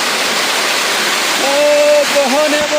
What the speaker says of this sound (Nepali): यहाँ चाहिँ बाहुबलीको झरना